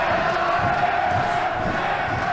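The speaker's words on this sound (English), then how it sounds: "You can hear the crowd." Crowd cheering at an XFC31 MMA fight, a dense, continuous roar of many voices shouting and urging the fighters on, sustained and fairly loud without a break.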